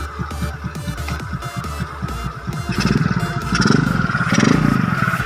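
A Suzuki Skywave scooter, just fitted with new swingarm bearings, idles close by with a steady rapid chugging, then revs up and holds higher with a rougher, louder throb near the end.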